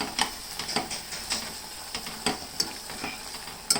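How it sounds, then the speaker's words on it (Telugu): Grated carrot for carrot halwa is stirred in a pan of hot ghee, giving a soft continuous sizzle broken by repeated scraping strokes of a spoon against the pan at an uneven rhythm. "క్యారెట్ అంతా వేసేస్తున్నాను. వేసి ఇలా తిప్పేసేయాలి."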